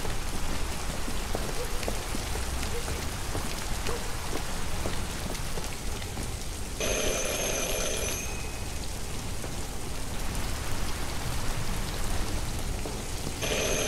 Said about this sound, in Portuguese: Chuvinha, barulho da chuva, perfeito, né?